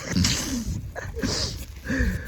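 Two or three sneezes burst out close to the mic in quick succession, loud and sharp, with no talking between them.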